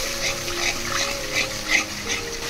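Beaten yogurt is stirred into a sizzling spice masala for katla kalia, giving a soft sputtering hiss with a few scraping stir strokes and faint tonal hum beneath.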